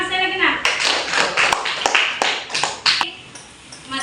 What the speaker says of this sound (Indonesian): Tepuk tangan sekali lagi, Nak